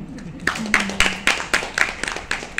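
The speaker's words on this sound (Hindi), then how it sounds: "सब अपने लिए तालियां बजा दीजिए" Scattered applause from a seated audience of Sanskrit scholars at a conference hall in Pune, with uneven bursts of clapping and a brief tonal hum underneath.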